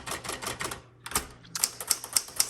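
Typing on a 1960s Galaxie II typewriter repainted in red: quick bursts of close, crisp key strikes, a brief pause, then a steady run of keystrokes with sharp bell-like metallic clacks.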